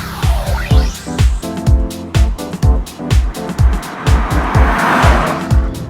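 A 2012 Toyota Camry driving on the road, its engine loud and close with a steady rhythmic throb and a brief tire squeal, no one talking.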